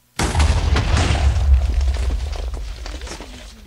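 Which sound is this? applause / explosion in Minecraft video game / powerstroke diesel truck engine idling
explosion in Minecraft video game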